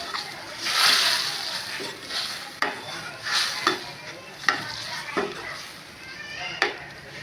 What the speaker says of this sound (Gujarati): તો 1 ગ્લાસ પાણી ઉમેર્યા પછી આપણે એને મિક્સ કરી લેવાનું.